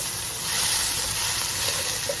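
Sweet potato sautéing in a hot pan for a braised beef rib dish, a steady bright sizzle and hiss, close and continuous with slight stirring variation, no voices.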